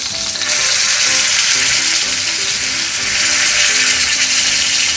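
Beef for beef Wellington sears in a pan over the highest heat, giving a loud, steady, close sizzle that holds for the whole stretch with faint scraping as the meat is pressed and rotated.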